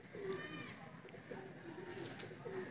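Dub pigeons on a rooftop coo in soft, low, repeated calls, about four or five in a row, with a faint murmur of background noise and voices underneath.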